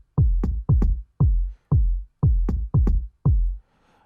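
Harder kick drum layered into a deep tech house beat in FL Studio: eight loud, booming hits with sharp clicky attacks in a syncopated rhythm, each ringing out briefly before cutting off.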